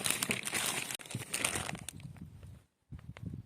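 A plastic packaging bag holding plants from a delivered parcel crinkles and rustles close up for about two seconds as it is handled during unboxing, then quieter handling noises follow.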